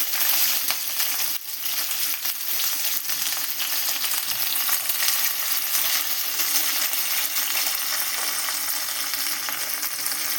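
Sliced onion and curry leaves sizzle and crackle steadily in hot oil in a pan, a continuous bright frying hiss with a brief clatter early on and no talking.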